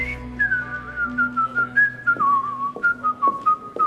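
A person whistles a wandering, sliding tune alone, clear and close, in short phrases that rise and fall with brief pauses between breaths.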